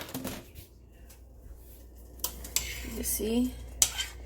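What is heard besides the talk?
stirring dumplings in a cooking pot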